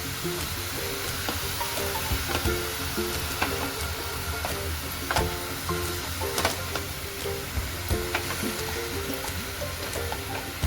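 Shepu (dill) bhaji cooking uncovered in a pan over a high flame, a steady close sizzle and crackle of frying greens with occasional stirring scrapes and clinks, continuous throughout.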